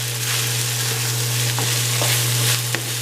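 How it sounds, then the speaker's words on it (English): Chicken fried rice stir-fries in a hot pan with a steady, loud sizzle and a low electrical hum beneath, broken by a few sharp scrapes and clinks of the utensil against the pan. "I'm going to make up for it by making the stir-fried rice."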